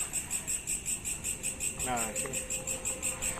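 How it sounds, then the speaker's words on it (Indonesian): Crickets chirp loudly and steadily at night in a residential neighborhood, a fast pulsing trill throughout, while someone briefly speaks close by partway through. "Ini jangkrik masih kenceng banget, udah kayak di kampung."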